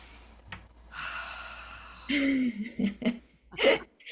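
Several people draw in a long, audible breath together with a song leader, followed by soft exhales and small breathy sounds, with a few murmurs near the end.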